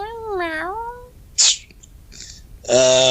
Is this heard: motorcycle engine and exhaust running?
no